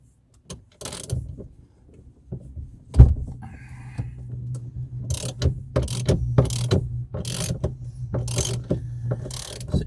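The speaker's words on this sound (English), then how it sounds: "I'll take the steering off." A ratchet with a 21mm socket clicks in short repeated bursts while removing the steering wheel of a Citroen AX, with intermittent mechanical rattles and handling noises close by in a quiet car interior.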